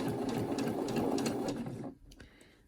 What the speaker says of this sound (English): you're going to sew over this elastic